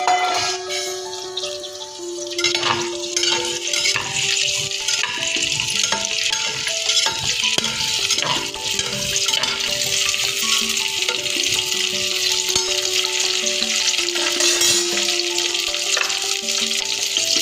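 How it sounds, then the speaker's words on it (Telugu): Cauliflower florets frying in hot oil, a steady close sizzle and crackle running throughout with scattered bright pops and the occasional clink of a utensil against the pan. "ఆయిల్ వేడయ్యాక గోబీ ఫ్రై చేసుకోవాలండి."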